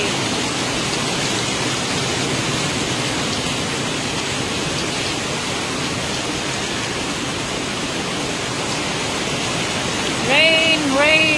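Heavy rain pours down in Barugo, Leyte, Philippines, in a dense, constant hiss, steady throughout with a slight swell near the end.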